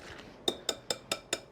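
A whisk beats egg yolks and sugar in a bowl with five evenly spaced, light metallic clinks against the side. The strokes are close and quiet, with no talking.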